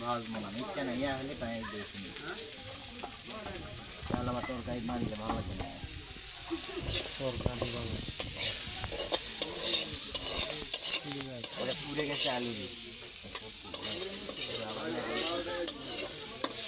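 Rice frying in oil in a pan while cooking outdoors at a picnic: continuous sizzling and scraping stirs under loud, overlapping conversation throughout.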